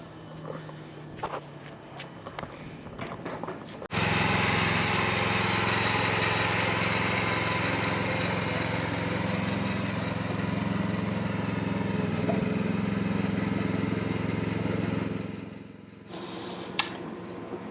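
A Chinese mini excavator's engine starts after a few seconds of quiet shuffling and runs at a steady loud chugging drone while the machine is driven, then drops away near the end.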